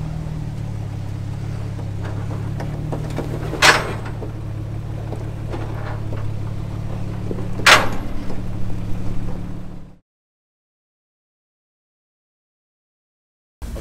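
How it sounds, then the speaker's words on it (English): A GU four-wheel drive crawls off-road under a steady engine drone, with two sharp clunks from the coil springs dropping out and reloading, a few seconds apart, before the sound cuts to silence. "Every time you hear that noise, it's either the spring dropping out or the vehicle's weight getting back on it."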